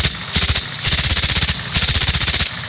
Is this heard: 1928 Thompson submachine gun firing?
yes